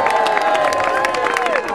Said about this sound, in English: A round of applause for the Red Nose Choir